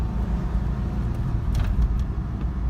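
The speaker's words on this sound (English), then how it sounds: "I do not know how they made a 4-cylinder sound so good." A 2006 Subaru Forester's 4-cylinder engine idling, a steady low rumble close by with no voices and no change in pitch.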